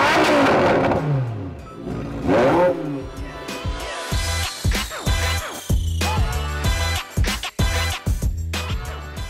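A loud V10 Lamborghini Huracan Evo RWD engine revs hard repeatedly through its exhaust, rising howls and sharp blips with crackling pops, close and dominant.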